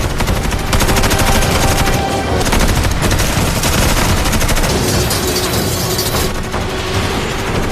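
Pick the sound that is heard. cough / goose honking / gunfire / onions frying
gunfire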